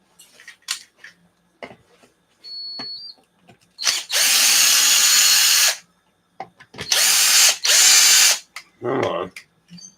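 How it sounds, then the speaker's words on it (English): Power drill used while repairing an RC basher car, whirring loudly in two bursts of about two seconds each, with clicks, handling noises and a brief voice between the runs. "time to start using the drill"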